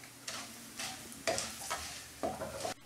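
Urad dal and red chillies frying in hot oil for a South Indian brinjal stir-fry, with bursts of sizzling and stirring scrapes in the pan, close and moderately loud, no voices.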